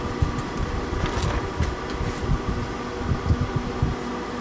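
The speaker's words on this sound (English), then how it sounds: "now the unit is on heat 5 and blower speed 5" Englander pellet stove blower motor running at speed 5 with the heat also on setting 5, a steady, close whirring hum with a low rumble and a few faint rattles, no talking.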